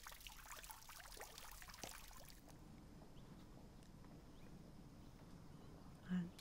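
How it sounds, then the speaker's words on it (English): Water flows and trickles outdoors at Villa Montalvo, a soft continuous babble with a brighter splashing wash in the first seconds, faint and steady, with a small bump near the end. "Maybe you want to listen to the water and listen to the surroundings."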